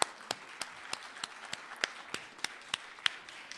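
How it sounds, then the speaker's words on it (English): Sparse, scattered clapping in a quiet hall at the closing plenary of a global conference held in an abbey, distinct individual claps spaced irregularly and fairly soft, with few people joining in. "je vous invite à les applaudir"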